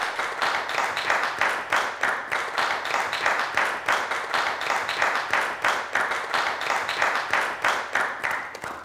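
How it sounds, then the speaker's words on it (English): A school audience at a secondary schools quiz challenge claps in steady rhythmic unison, a brisk even beat sustained loudly throughout with no talking. "let's give a huge round of applause to Eliezer"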